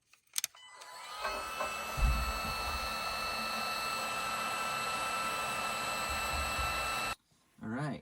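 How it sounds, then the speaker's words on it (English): A heat gun blows steadily to dry fresh paint, a continuous broadband whoosh lasting about six seconds after a brief clatter, close and fairly loud, then cutting off abruptly. "now I get a heat gun and we'll just dry up the paint"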